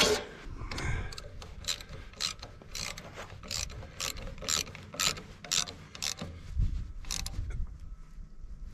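A ratchet wrench tightens a generator back onto a Super W-6 engine: a steady series of close, crisp metallic clicks in a quick rhythm, with brief pauses between strokes.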